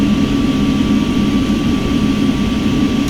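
Justflight BAe 146 jet airliner engines in a Prepar3D v5.1 flight simulator during an autopilot turn: a loud, steady turbine roar with a low rumble and a sustained high tonal whine, unbroken throughout.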